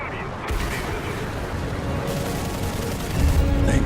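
Aircraft cannons fire in a flight combat video game as a dense, continuous barrage of rapid booming shots that holds steady for several seconds and swells louder near the end, with no talking over it.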